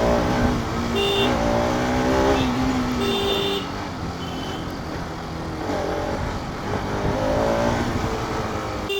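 A Bajaj RS200 motorcycle revs and accelerates through busy city traffic, its engine note rising in repeated pulls while horns toot nearby and the general street roar carries underneath.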